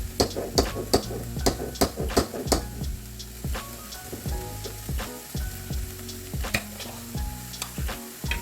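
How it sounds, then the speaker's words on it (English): Jarred marinara sauce is poured into a hot pan, with spatula stirring and scraping clicks over a steady sizzle, close and moderately loud, no talking. "we're going to pour in about 2 cups of marinara sauce"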